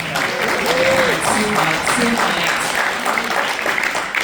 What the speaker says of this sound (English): Give him a applause for that